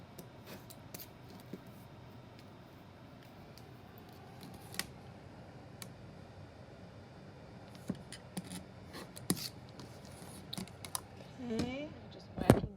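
Fabric selvages being trimmed from a quilt block on a cutting mat, soft scattered cutting and rubbing sounds, faint and close, with a few sharper clicks and snips near the end.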